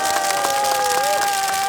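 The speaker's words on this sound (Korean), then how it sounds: "뜨거운 투쟁전선에 있는 두 분께 다시 한번 뜨거운 박수 부탁드리겠습니다" At an anti-US rally, a crowd claps for two speakers, a short steady burst of applause with distinct individual hand claps over a constant tonal hum.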